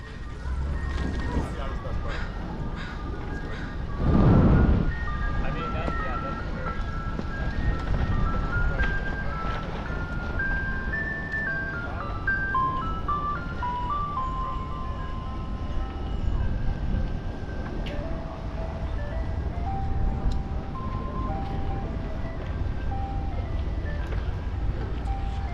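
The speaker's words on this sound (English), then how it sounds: "Ice cream truck." An ice cream truck's tinkly electronic jingle plays steadily from nearby on a Seattle street, a repeating melody mixed with wind and road noise, with people talking over it throughout.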